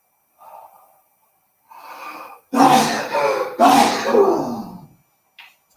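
A few breathy inhales build up, then two loud, explosive sneezes close to the microphone, followed by a brief faint sound.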